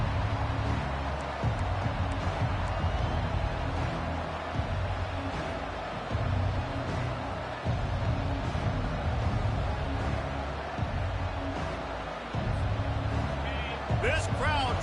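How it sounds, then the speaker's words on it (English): A football stadium crowd roars steadily at a season-opening kickoff, a dense sustained wash of cheering under a play-by-play announcer's voice. "This crowd trying to show them what it's going to be like all day in this house."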